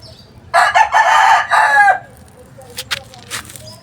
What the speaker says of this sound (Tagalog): Maingay yung manok.